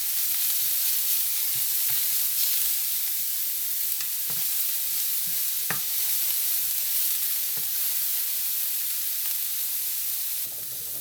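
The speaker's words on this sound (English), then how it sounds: "It's just frying too fast" Steady frying sizzle from a pan, a constant bright hiss with a few soft clicks and pops scattered throughout, close and fairly loud.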